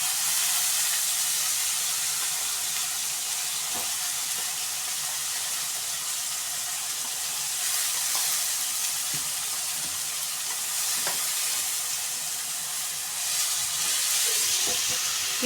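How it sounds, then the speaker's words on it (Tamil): Baby cabbage fries in a hot pan with a dense, continuous sizzle and hiss throughout, punctuated by occasional soft clicks and scrapes, close and steady with no voices. "ஸோ இப்போது நம்ம அலசி வச்ச கோஸ் பேபி கேபேஜ் வேணாலும் நம்ம என்ன பண்ணுறோன்னா இதில் போடுறோம்."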